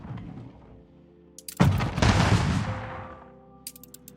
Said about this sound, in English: Some cannons.